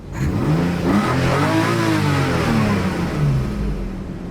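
A Nissan HR34 Skyline GT engine runs close and loud on its own, holding a smooth idle that rises into a couple of revs and settles back, with no voices.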